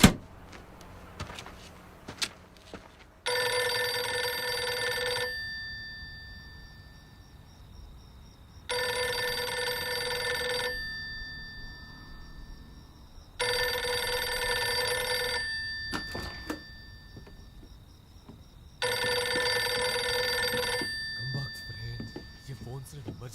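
A telephone rings in four long, loud bursts of bright electronic trilling, each about two seconds long, separated by quiet gaps, with faint background sounds between the rings.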